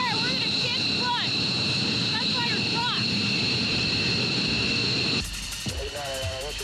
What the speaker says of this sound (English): In a minute, it goes from silence to loud jet noise